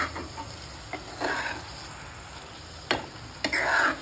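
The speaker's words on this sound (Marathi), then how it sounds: "ते थोडं आता थोडंसं घट्ट होईपर्यंत हलवायचं" Bottle gourd halwa is stirred in a pan, giving a soft scraping sizzle broken by a few sharp clicks of the spoon against the metal. The sounds are close and clear, with no talk.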